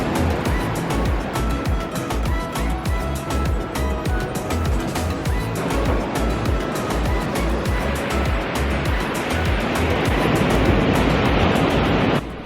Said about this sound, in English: listening to the sound of the waves